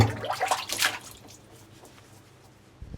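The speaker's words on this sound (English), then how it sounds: "That is the sound of someone skillfully covering mugs with glaze." Glaze poured over china mugs in a pottery factory: a brief wet splashing and trickling that fades into quiet dripping, close by with no talk.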